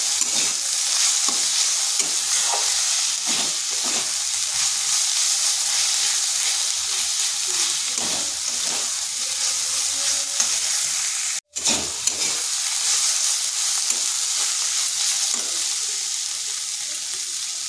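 Radish greens stir-fried in a pan, a steady loud sizzle and hiss with repeated scraping and stirring strokes, no talking.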